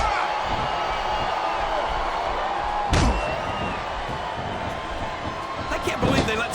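An arena crowd in the WWE SmackDown vs Raw 2007 video game roars and murmurs steadily, with a sharp slam midway and commentators talking over the noise.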